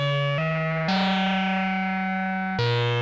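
Sustained oscillator tones from a Moog Grandmother synthesizer, rich in harmonics, step through a few held notes, each change bright and slightly chorused, loud and close.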